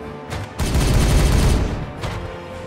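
Gunfire from the video game Warhammer 40000: Regicide rattles out as a dense burst of rapid shots, loud and close, followed by fainter lingering crackle.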